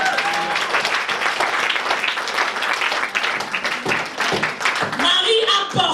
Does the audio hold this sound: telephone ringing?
no